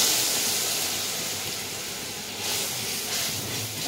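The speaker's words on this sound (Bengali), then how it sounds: "এই হচ্ছে ফোড়ন।" Spice tempering with black cumin sizzling in hot oil in a home kitchen, a broad steady hiss that swells slightly near the end, close and without talk.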